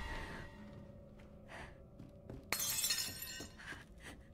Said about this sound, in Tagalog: Ayoko nung may mga nababasag-basag.